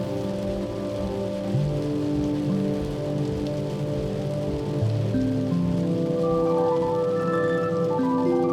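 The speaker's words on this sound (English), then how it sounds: "Weather remained unseasonably cold and rainy for March." Steady, dense rain falls in the cold of an unseasonably wet March near Lake Tekapo on New Zealand's South Island. It hisses continuously over a sustained tonal hum.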